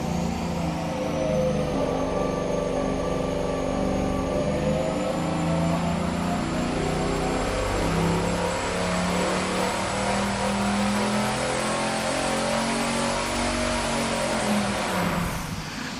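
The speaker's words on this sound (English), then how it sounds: "We keep cranking up the boost and the power keeps dropping." Supercharged big-block Chevy V8 revving hard on an engine dyno, a loud continuous roar held for about fifteen seconds with shifting pitch, ending in a brief tail-off.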